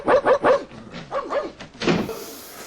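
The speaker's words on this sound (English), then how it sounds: "when he barks, it's the same bark that's just replayed" A dog barks in quick repeated bursts, three close together, then two more and a last one, the same bark sample replayed in a TV show, fairly near and clear with no talk.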